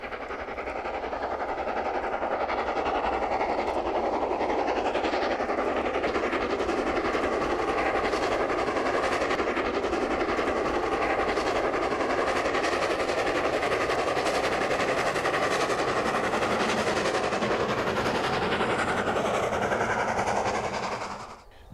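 A steam locomotive, the Jubilee Leander, labours hard up a bank on the Settle–Carlisle line, its heavy chuffing and rumble sustained and close for about twenty seconds, then fading away at the end.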